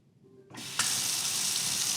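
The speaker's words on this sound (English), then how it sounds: "Alexa, have Kohler turn on the kitchen faucet." Water gushes from a Kohler kitchen faucet switched on by voice command, a steady rushing stream hitting the sink basin, loud and close with no talking.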